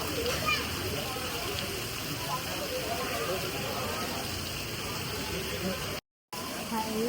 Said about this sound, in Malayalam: എപ്പോഴും മഴയാണ് ഇവിടെ